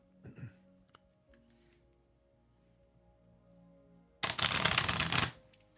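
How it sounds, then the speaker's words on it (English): A deck of tarot cards being shuffled close up, one loud riffling burst lasting about a second near the end, after quiet clicks and faint background tones. "I'm getting these cards shuffled and ready"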